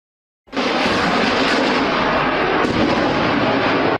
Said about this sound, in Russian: В небе штурмовик Су-25, вот он выпускает ракеты